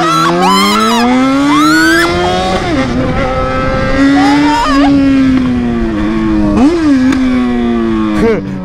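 A Yamaha XJ6 motorcycle engine runs loud and close while riding, its pitch rising and falling steadily through shifts and throttle changes, with the engine drone dominating throughout.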